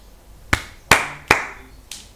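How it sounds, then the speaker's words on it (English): Three sharp hand claps ring out close and loud, spaced unevenly, followed by a fourth fainter clap, in a quiet room with no talking. "he clapped 3 times in his hands"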